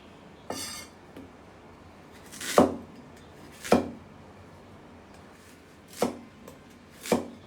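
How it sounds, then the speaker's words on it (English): A knife cuts taro into small cubes on a cutting board with five or six distinct, crisp chops spaced unevenly over several seconds, close and fairly quiet, with no talking. "Cutting it into these neat little cubes"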